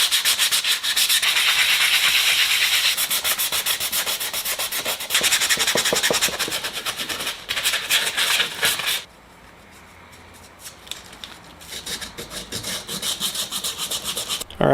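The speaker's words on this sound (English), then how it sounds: "Alright, well I've sanded down both of these mold halves here." Mold halves for a forged carbon fiber part for a Sonex aircraft being sanded by hand: loud, steady rasping strokes for about nine seconds, then a brief pause and quieter, more broken scrubbing toward the end.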